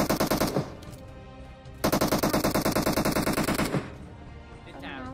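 Rapid automatic gunfire rings out in a PUBG Mobile match, two long bursts of rhythmic shots separated by a short gap, loud and close, with a brief voice at the end.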